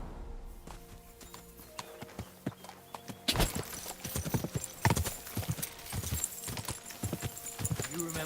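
Horse hooves clip-clopping on a path in the medieval video game Kingdom Come: Deliverance 2, a steady walking rhythm of sharp knocks, with occasional neighs and game dialogue voices talking over it in the second half.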